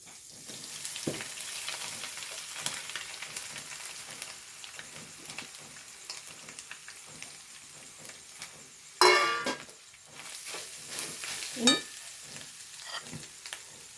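Coconut roasts in a pan for sambar, a soft, steady sizzle broken by stirring scrapes and a couple of sharp utensil clinks, with no voices.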